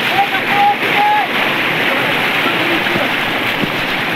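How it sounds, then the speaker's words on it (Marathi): A monsoon waterfall at a hill station near Kelavane village, Panvel, roars as a steady wash of falling water, with a few brief whistle-like tones early on. "बघा कसा धबधबा आहे"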